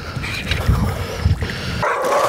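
A dog on a fishing boat out on a lake gives a few short barks and whimpers over engine and water noise, the yelps coming in brief bursts with a voice briefly audible.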